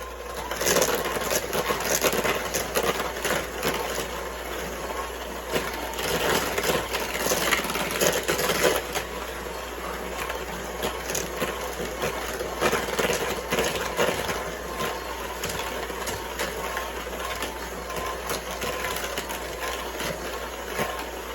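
An electric mixer beating softened butter and brown sugar, a steady whirring motor drone held at a constant pitch close by for the whole stretch, no talking.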